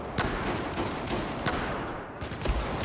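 Gunfire in Battlefield 4, a continuous muffled rattle of shots with several sharper single cracks standing out, fairly distant and steady, with no talk over it.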